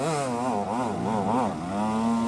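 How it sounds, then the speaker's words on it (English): A 125cc enduro motorcycle screams uphill over rocks at an extreme cross-country race, its high-revving two-stroke engine loud and close, pitch wavering up and down as the rider works the throttle. "Duncan de Beer riding a little 125."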